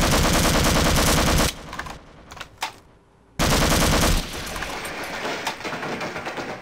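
A boss firing energy balls in the video game Half-Life: Source, heard as dense rapid-fire bursts that break off into a short near-silent gap, then resume as a loud, rattling barrage, with no talk.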